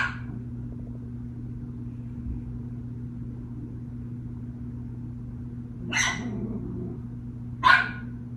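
A puppy gives two short, sharp barks late in the clip, a few seconds apart, over a steady low indoor hum with no talking.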